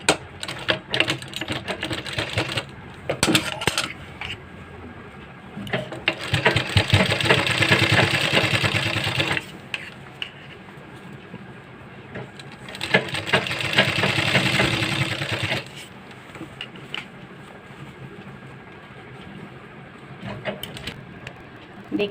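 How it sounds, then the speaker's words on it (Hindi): A sewing machine runs in two sustained bursts while stitching the corner of a kurti collar, with a rapid mechanical clatter between stretches of quieter handling and brief clicks; close and alone, with no voices. "इसको अंदर रख के इसके कॉर्नर पे सिलाई लगानी है।"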